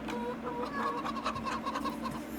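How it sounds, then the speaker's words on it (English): Little baby chicks, about fifty of them, cheep in a busy, overlapping chorus of short high peeps, fairly near and steady throughout. "We got little baby chickens."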